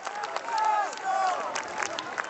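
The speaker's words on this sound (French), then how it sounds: "Signe de la main à la foule qui l'acclame au pied de l'hôpital" A crowd outside a hospital cheers Pope Francis, with a continuous mix of shouts and scattered applause at moderate distance, and a voice speaking over it.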